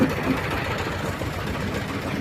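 A T-25 tractor engine runs steadily nearby after ploughing, a continuous rough chugging drone with no voices.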